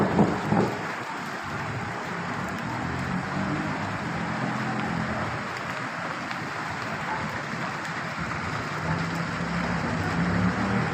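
Heavy monsoon-style rain falls in Hazara Town, Quetta, heard from a shopfront as a steady, dense hiss of downpour that continues evenly at moderate volume with no talking.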